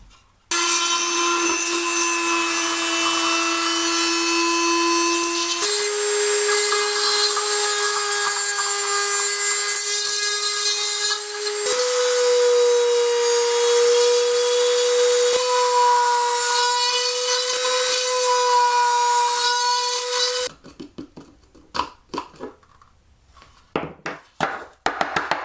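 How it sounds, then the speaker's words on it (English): A fine drill bit is dragged through the plastic slits of an Aqua One Moray 700 internal aquarium filter, giving a loud, steady whining grind in several long passes that shift slightly in pitch, then stops into scattered light clicks and taps. "I'm going to see if I can put that through here and actually just drag it down to open up these slits"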